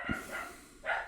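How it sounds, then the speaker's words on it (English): A dog gives a couple of short, muffled barks in the background, faint and brief in a quiet indoor setting. "Sorry for the dog barking."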